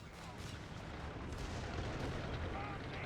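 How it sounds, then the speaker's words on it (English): Small grenade explosions in Company of Heroes blend into a dense, continuous low battle rumble with muffled blasts, heard beneath a commentator's talk. "A lot of little grenades there, a little bit of damage"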